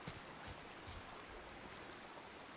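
A river in the survival video game Soulmask flows with a steady, soft rushing wash that stays even and fairly faint throughout, with no voices over it.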